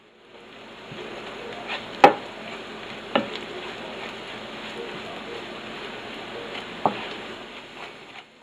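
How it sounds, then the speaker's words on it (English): Corn tortilla pieces fry in oil in a pan with a steady, even sizzle, broken by a few sharp knocks of a utensil against the pan. "So that way we can go ahead and evenly fry all the corn tortilla pieces in there."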